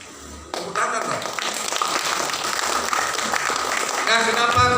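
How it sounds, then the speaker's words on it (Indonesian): Audience at an installation ceremony for a Balinese Hindu organization breaking into applause after a brief pause, a moderate, steady patter of clapping mixed with voices and background sound. "Tepuk tangan dong."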